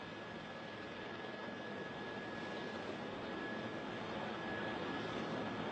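An airliner rolls down the runway on landing with its nose gear locked sideways, tires burning and smoke trailing, producing a steady, loud broad roar that stays constant throughout with no voices.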